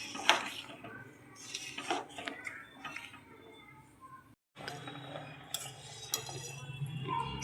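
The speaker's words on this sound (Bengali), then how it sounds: "ভালো করে নাড়তে হবে, নাহলে নিচে লেগে যাবে, তাই আমি ঘন ঘন একটু নাড়তে থাকবো।" Spoon stirring Gobindobhog rice payesh in a pot, with repeated close scraping and clinking against the metal, a brief pause midway, then more stirring.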